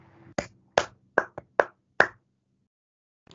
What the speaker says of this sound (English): Please clap for yourself for asking that question